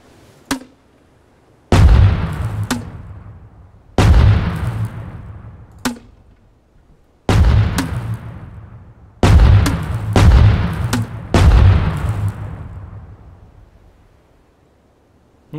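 A 40mm grenade launcher fired in the game Rust: about six heavy, booming single shots at irregular intervals, each with a long decaying tail, interspersed with faint sharp clicks and no talking.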